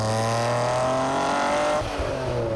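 A Noble M400 sports car accelerates hard, its loud engine rising steadily in pitch before easing off near the end, heard up close and alone.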